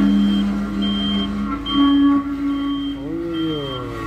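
A yellow asphalt roller rolls back and forth compacting fresh asphalt on a street, its steady electronic reversing beeps sounding close over the engine drone, and someone talks briefly near the end.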